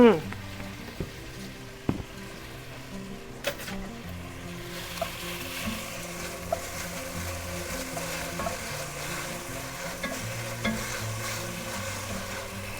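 Minced garlic sizzles in a hot pan for a zucchini and cabbage soup, a soft continuous crackle punctuated by occasional scraping taps as it is stirred.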